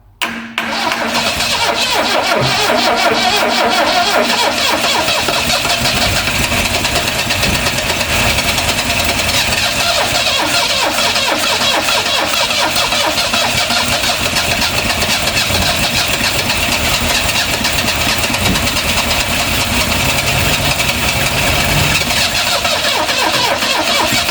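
An old Vauxhall Magnum engine, revived after 37 years and with a failing starter motor, cranks and catches, then runs on loudly with a rough, steady drone throughout, close up.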